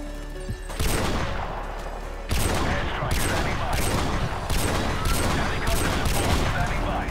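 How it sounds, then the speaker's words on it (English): Barrett rifle fire in a shooter video game, dense bursts of rapid booming shots in several sustained volleys with short gaps, loud and busy throughout. "I sprayed them with a Barrett."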